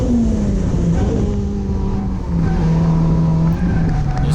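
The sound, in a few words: car spinning Kenda KR20A drift tires in third gear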